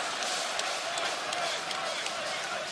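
A large wrestling crowd cheers inside a Cardiff arena during an AEW Collision event, a dense, steady roar with a voice speaking over it.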